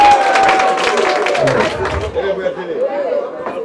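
A crowd at a Paris association president's investiture claps loudly at first, then the applause gives way to lively crowd chatter and overlapping voices nearby.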